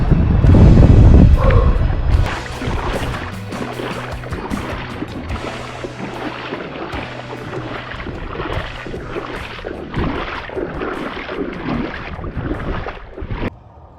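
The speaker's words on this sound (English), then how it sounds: "it's been like 2 hours of paddling" Paddling a boat across water on a long trip, with rhythmic splashes and dips of the paddle, wind noise at the start and no talk.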